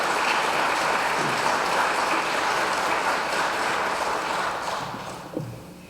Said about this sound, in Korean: 우선 이충렬 선생님께 격려의 박수를 부탁드립니다.